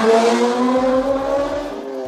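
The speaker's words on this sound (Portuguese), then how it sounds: "barulho da moto." A motorcycle passes by outside with a loud, buzzing engine whose pitch shifts as it goes, in a home kitchen with no talking over it.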